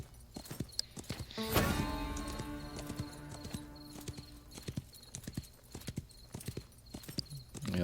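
Hooves clip-clop steadily on the ground as a horse travels in a video game, with a loud burst around two seconds that sounds like a whinny or snort, then an irregular rhythm of hoof strikes continuing at moderate volume.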